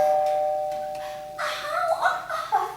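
A doorbell chimes in a stage production of the play The Fire Raisers, a single clear electronic tone held for about a second, followed by a brief pause and then a burst of voices.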